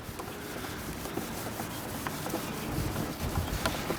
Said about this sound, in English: Damp cloth, small bit of Acrylic-Werks polish,